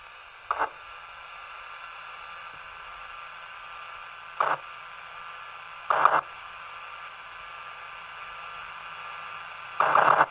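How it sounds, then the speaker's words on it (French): A handheld transistor radio picks up interference from a Linky smart electricity meter: a steady hiss of static broken by four short, louder crackling bursts spaced a few seconds apart. "On va entendre le grésillement au moment du passage des fréquences."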